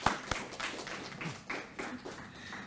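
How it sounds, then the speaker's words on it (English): Scattered, fairly faint hand claps come from the audience at an April Fools' debate on eagle versus turkey, a few sharp claps at the start and then thin, uneven patter. "Another round of applause for Dr."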